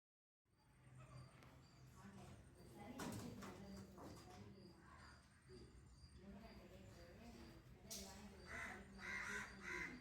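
Crows cawing while feeding on a grass lawn, several harsh calls scattered over ambient noise with occasional louder bursts nearby.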